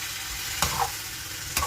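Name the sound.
frying chicken with capsicum, onion and pineapple slices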